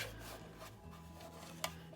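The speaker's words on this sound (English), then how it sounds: "I'm just going to use my mini trimmer to trim that one down." A mini paper trimmer cuts through a stamped card in a soft, continuous rasping rub lasting a couple of seconds, quiet and close, ending with a small sharp tick.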